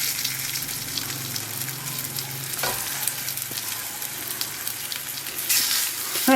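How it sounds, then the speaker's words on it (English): Lithuanian meat pies frying meat side down in hot oil in a pan, giving a steady, close sizzle and crackle that swells slightly near the end, with no talking. "we want to put these meat side down at first. And we're just going to fry them until they're golden brown"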